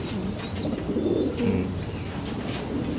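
A large young pigeon, nearly as big as its mother, coos in soft low repeated phrases, with a few brief higher chirps over a steady background hum. It sounds close.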